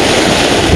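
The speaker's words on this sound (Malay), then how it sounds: "Angin memang kuat ni, nak casting tak syok." Strong wind gusts buffeting a microphone on a boat at sea during a fishing trip, with surf and water noise beneath, a steady loud broadband roar throughout with no talk.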